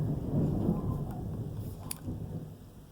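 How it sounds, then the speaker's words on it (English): Low thunder rumbles steadily outside during a Florida storm, a dense, muffled roar with faint rain patter and no speech. "Sorry about the thunder in the background."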